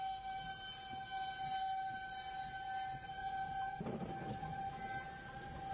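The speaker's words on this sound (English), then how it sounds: "Well, sirens are screaming." A steady, distant siren tone drones continuously over a faint rumbling background during severe weather in Lubbock, with no voices.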